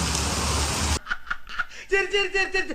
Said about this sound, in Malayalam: രാവിലെ തന്നെ നല്ല മഴ